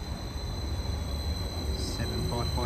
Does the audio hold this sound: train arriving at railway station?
yes